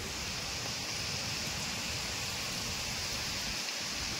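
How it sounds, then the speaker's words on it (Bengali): Dense, steady roar of heavy rain and wind from Cyclone Remal in Kolkata, a constant broadband wash without pauses. "প্রচণ্ড ঝড় হচ্ছে বাইরে, আর বৃষ্টি হচ্ছে সেই হারে"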